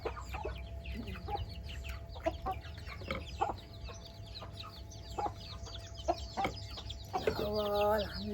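Chickens cluck in scattered bursts close by, with a louder rooster crow breaking in near the end over steady low background noise.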